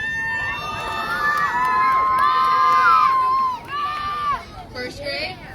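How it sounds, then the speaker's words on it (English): Kindergarten children at a homecoming pep rally give a loud, sustained, high-pitched group cheer and scream, fading out after a few seconds into scattered shouts. "give us the loudest cheer you can"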